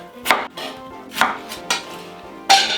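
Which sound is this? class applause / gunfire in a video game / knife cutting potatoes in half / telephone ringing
knife cutting potatoes in half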